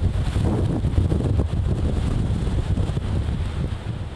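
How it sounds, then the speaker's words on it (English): Strong hurricane wind gusts from Hurricane Michael buffet outdoors, a loud continuous roar of wind noise battering the microphone with low rumbling turbulence throughout, no voices. "these wind gusts will come at you, and you know they're coming"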